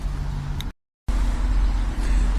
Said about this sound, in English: We were able to get it started. The fuel pump isn't working, so we just got it to turn over, and engine sounds great.